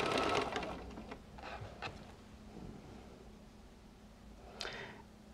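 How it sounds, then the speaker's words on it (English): A sewing machine stitches quilt fabric, its needle rattling quietly and steadily after a brief start-up, with a couple of small clicks and handling knocks along the way; no voices. "So let's go ahead and sew this."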